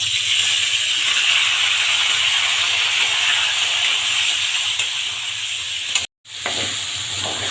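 A catla fish head fries in hot oil with whole cumin seeds, giving a loud, constant sizzling hiss that cuts out for a split second before resuming.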